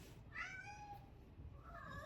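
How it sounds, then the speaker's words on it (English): A house cat gives two close, fairly quiet meows, a longer one followed after a pause by a shorter one. "My cat is agreeing."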